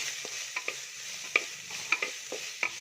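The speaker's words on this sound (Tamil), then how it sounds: "இதை போட்டு நல்லா வதக்குங்க" Steady sizzling of small onions sautéing in a pan, with scattered spoon scrapes and stirring taps throughout, close and fairly quiet.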